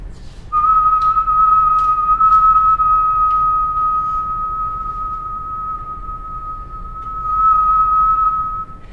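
A person whistles one steady, pure tone, held loud and unbroken for several seconds, alone with no talk.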